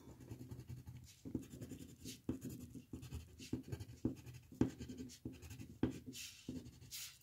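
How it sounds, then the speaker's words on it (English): Colored pencil scratches short jimmies onto paper for a donut drawing, making a quiet series of quick, rhythmic strokes with small taps between them. "try doing your jimmies with your colored pencil."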